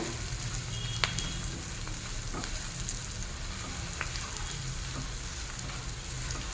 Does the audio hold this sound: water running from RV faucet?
no